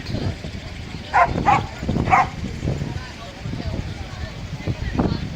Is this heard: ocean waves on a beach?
no